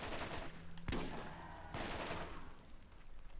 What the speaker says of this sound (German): Das ist die MG, die ich eben gefunden habe